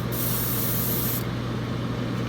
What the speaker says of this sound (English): I just spray a little bit of my premix in here.